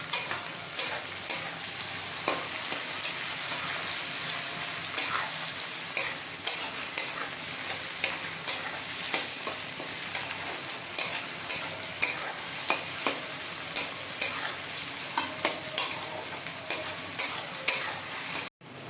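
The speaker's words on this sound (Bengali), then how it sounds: "এখন আমরা মেশাবো এর মধ্যে কাটা টমেটো" Chopped tomatoes being stirred into dal tarka frying in a pan, with a steady sizzle and a regular rhythm of spoon scrapes and taps that recurs close by throughout, no talk.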